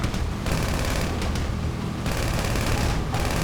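Rapid automatic gunfire in Grand Theft Auto during a boat delivery mission, loud continuous bursts of shots with booming impacts, broken by brief gaps.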